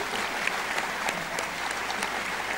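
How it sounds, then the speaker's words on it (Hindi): Steady, dense applause from a ceremony audience at a Pakistan Air Force special ceremony welcoming an officer, filling the whole moment without voices. "आपकी भरपूर तालियों में इस्तकबाल कीजिए"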